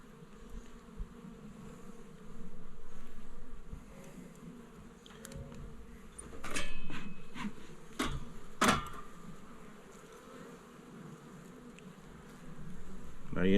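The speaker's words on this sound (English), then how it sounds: "Now you can see this frame is full of bees" Honey bees buzz around an open hive during an inspection, a continuous drone that swells and fades as frames are moved, with scattered sharp clicks and knocks of handling.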